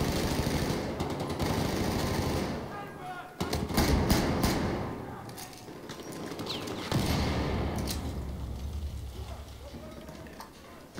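Gunfire from an F2000 rifle in the video game Battlefield 4, bursts of rapid shots crackling over busy game noise, some volleys loud and close, others more distant.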